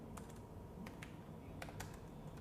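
Keys on a computer keyboard are typed in a quiet, irregular patter of light clicks, a few quick taps spaced apart against faint room hiss, with no talking.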